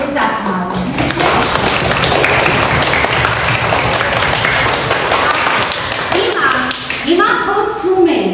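Children and a teacher applaud in a classroom, dense fast clapping that lasts nearly the whole stretch, loud and close, then thins into scattered claps and voices at the end.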